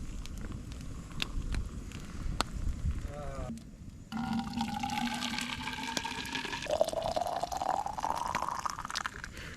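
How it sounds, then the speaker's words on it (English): Hot water from boiled snow is poured outdoors to make hot chocolate, a gurgling fill whose pitch rises steadily as the container fills, with a voice speaking beforehand. "I'm gonna have to fill up my hot chocolate."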